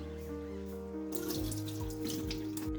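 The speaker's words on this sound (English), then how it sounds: "Give them a good rinse to remove any dirt and set aside." Chillies are rinsed under a running kitchen tap, a steady gush of water into a sink with splashing and shifting flow as the chillies are handled, close and clear.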